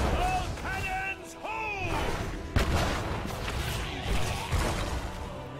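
Cannon fire in the video game Heroes of the Storm on the Blackheart's Bay map: several heavy booms and bursts mixed with game voice lines and effects, with a loud impact partway through.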